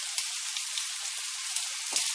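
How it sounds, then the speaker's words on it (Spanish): Half a chopped onion fries in oil with a dense, steady sizzle and scattered small pops, close by and alone, ahead of an artichoke stew with pine nuts. "vamos a freír media cebollica picada"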